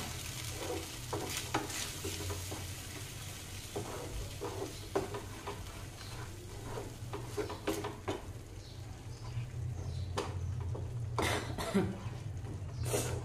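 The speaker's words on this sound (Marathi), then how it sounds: "हे बघा, अशा प्रकारे छान मिक्स करून घ्यायची आहे." Cashew masala gravy stirred in a pan gives a soft scraping and faint sizzling texture with occasional utensil knocks against the pan, low and steady beside a quiet voice.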